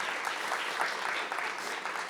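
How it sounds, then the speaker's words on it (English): Live-event audience applauding steadily to welcome a speaker, a dense wash of clapping hands held at an even level throughout, with no voices breaking through. "Please, round of applause."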